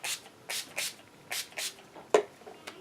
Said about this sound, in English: And I just spray my face once with this.